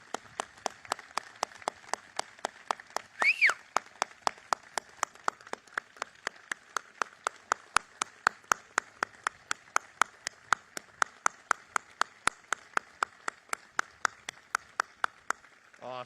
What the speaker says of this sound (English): please join me in a giant round of applause for Stephanie